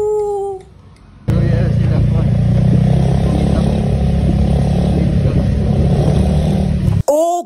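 Motorcycle engine starts up loud and close after a short stretch of speech and runs steadily, a low rumbling drone as the bike rides off, cutting out abruptly near the end.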